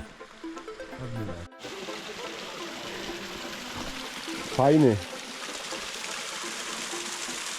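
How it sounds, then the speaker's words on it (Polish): A small waterfall tumbles steadily at close range, a constant wash of flowing water heard alongside brief talk and a short vocal sound. "Jaki piękny wodospadzik."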